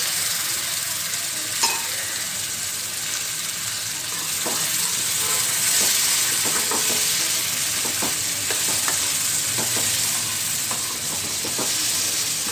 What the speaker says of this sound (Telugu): ఇప్పుడు ఈ ఉడకబెట్టిన శనగలు ఇందులో వేసుకోవాలి.